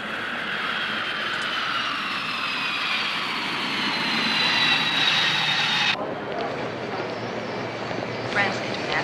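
Airliner arriving at an airport, a loud whining jet engine roar with a rising tone that cuts down abruptly to a softer rumble, heard alongside talk.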